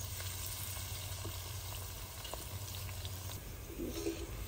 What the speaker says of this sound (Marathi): आपल्या चवीनुसार आता आपण मिरची टाकून तळून घेणार आहोत।